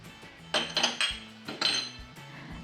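A utensil stirs egg, tomato, chili and vegetables in a metal cooking pan, giving bursts of clattering scrapes and clinks in uneven groups over a low background, close by and with no voices.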